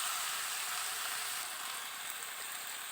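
Chopped tomato and spices frying in a pan, stirred, giving a steady broadband sizzle throughout, moderately loud and close with no voices.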